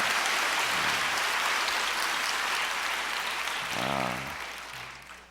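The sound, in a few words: applause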